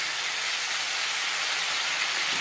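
Ginger and green chilli paste hits hot oil with fried onion and tomato for a tilapia fish curry, a dense, steady bright sizzle and hiss filling the short stretch without talk.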